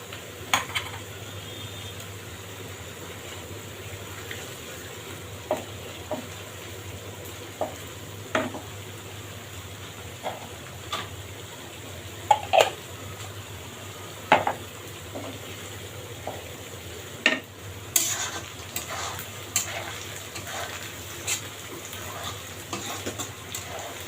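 Ghee frying in a pan for egg korma, a steady sizzle with scattered stirring clinks and scrapes running continuously throughout.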